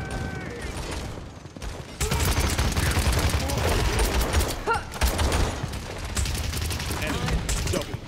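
Rapid gunfire in the Paladins video game, with dense, loud bursts of shots running almost continuously from about two seconds on, under occasional talk.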